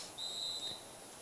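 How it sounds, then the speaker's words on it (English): A referee's whistle sounds once at a high school football game, a single shrill blast lasting about half a second over quiet crowd ambience. "And we have a whistle here."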